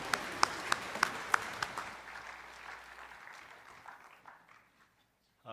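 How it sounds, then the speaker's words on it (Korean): A church congregation at a New Year's Day worship service claps: a few sharp, evenly spaced claps ring out up front, then a thinner spatter of applause tapers off into near silence. "박수를 함께 드리겠습니다"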